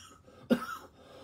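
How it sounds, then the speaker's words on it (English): A single short cough bursts out close by, a quick throaty rasp that fades within a moment, with near silence around it. "That laugh rolled through my chest and made me cough."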